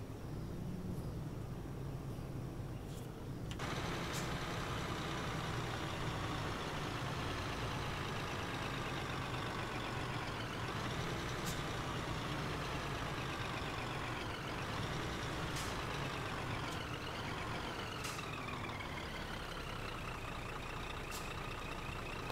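A Scania truck in a driving simulator runs with a continuous engine drone as it decelerates, pitch sweeping and shifting, with sharp hissing bursts of air brake release scattered throughout, quiet overall and without talking.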